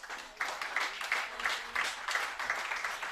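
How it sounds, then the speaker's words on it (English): Spectators at a para shooting sport medal ceremony applaud a silver medalist, a quiet, somewhat distant crowd clapping with a loose rhythmic pulse for about three seconds. "Congratulations, big applause for Kovalchuk Vasil."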